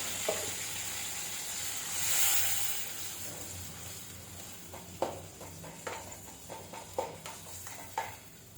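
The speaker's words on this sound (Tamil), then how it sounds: "தக்காளி நல்லா வதங்கிடுச்சு" Ground tomato purée sautés in a pan for kulambu with a soft, low sizzle and hiss, broken near the end by several light clinks and stirring taps, all fairly quiet and without speech.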